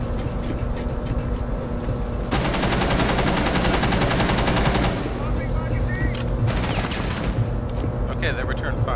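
Rapid automatic gunfire in Rainbow Six Siege on the Yacht map, a dense sustained burst through the middle of the clip, with sharper shots before and after, while players talk over it.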